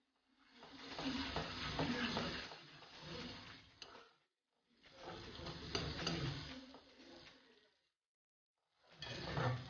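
Masala of onion and tomato cooking in oil, a stirred, sizzling fry heard in three bursts separated by short pauses, moderately loud and close with no talking.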